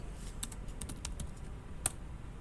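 Computer keyboard keys tapped while saving and exiting a config file in the nano editor, a quiet sparse run of clicks with one firmer keystroke near the end, close and without talk.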